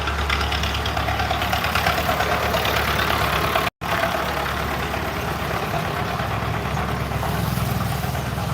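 Tractor engine idling on a road in Thailand, a loud, steady, close mechanical rumble with a knocking chug that carries on unbroken apart from one brief dropout.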